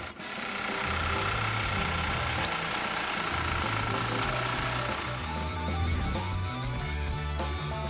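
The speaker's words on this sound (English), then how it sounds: "This mini bulldozer is built on the basis of a cultivator and impresses with simple operation and maneuverability." Homemade mini bulldozer built on a cultivator base, its small engine running with a loud, steady knocking drone and a rhythmic low chug that shifts slightly in tone toward the end, close by.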